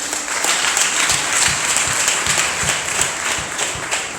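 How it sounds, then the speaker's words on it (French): An audience applauding priests at a church gathering, with dense, steady clapping from many hands that holds at an even level throughout, filling the room close by. "Merci, on peut encore les applaudir."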